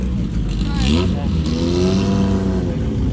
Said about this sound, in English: There's the race car.